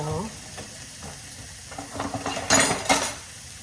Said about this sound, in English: we're just going to let our meat get to browning